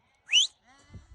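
A single short, high bleat from a lamb in a garden, followed by a faint rustle.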